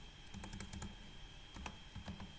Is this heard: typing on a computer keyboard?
yes